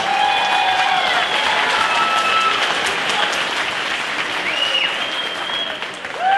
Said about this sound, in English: how about a round of applause for both these warriors?